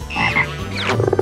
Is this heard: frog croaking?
yes